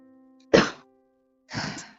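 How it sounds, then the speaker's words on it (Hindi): Two separate harsh coughs from a person, the first sharp and loud, the second a longer raspy burst a second later, close to the microphone over a faint steady hum. "देखो देखो देखो देखो देखो देखो कितनी खांसी आ रही है।"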